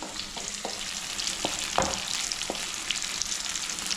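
Sardines sizzle and spit in hot oil in a pan, Kerala-style fish fry, a steady crackling hiss with a few soft clicks as the fish are stirred or turned, no talking.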